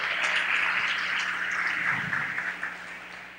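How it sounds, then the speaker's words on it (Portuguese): A church audience, children among them, claps in a sustained, even round of applause that fades slowly toward the end. "palmas."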